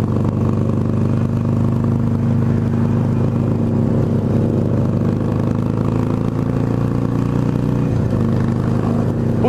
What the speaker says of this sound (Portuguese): Olha o somzão dela.